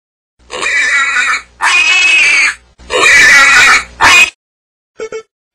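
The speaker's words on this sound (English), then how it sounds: "Pig." Pig oinking in four loud grunting bursts of about a second each in close succession, followed after a pause by two short faint grunts.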